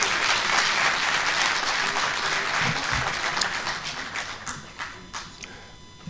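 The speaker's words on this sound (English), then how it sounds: "I think you need to give him a better round of applause." A graduation ceremony audience gives a sustained, dense round of applause that fills the hall, with no clear speech over it, tapering slightly toward the end.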